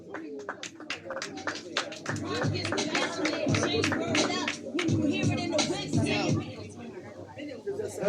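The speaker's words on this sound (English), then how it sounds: "a round of applause" Audience at a poetry session breaking into lively applause, dense clapping swelling and holding for several seconds with some crowd murmur mixed in.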